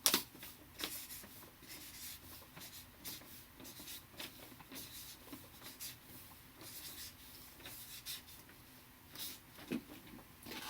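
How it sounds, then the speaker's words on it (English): Black marker squeaking and rubbing across paper as numbers are jotted down one after another, a string of short scratchy strokes with brief pauses between them, close up and fairly quiet with no talking. "I'm going to go ahead and quickly write in a number above each of those"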